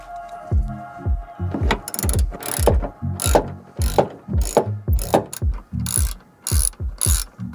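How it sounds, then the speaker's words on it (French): A size 13 wrench ratchets on the bolts holding a tank in place, giving close, rapid clicking strokes in uneven bursts with short pauses between them. "avec une clé de 13, on va déboulonner les 6 boulons qui maintiennent le réservoir en place"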